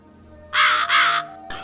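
A cartoon crow gives two long, harsh caws in quick succession, loud and close, followed by a brief clipped start of a third.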